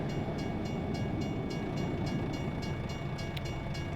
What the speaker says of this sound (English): Is that train still going through?